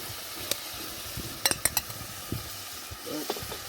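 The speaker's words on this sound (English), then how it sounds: "Now we're gonna add the ackee." Ackee goes into a frying pan with saltfish, giving a soft steady sizzle broken by a few sharp clinks of a utensil against the pan.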